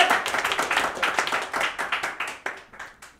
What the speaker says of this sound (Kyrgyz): Эми Аман акынга кол чабуулар болсун.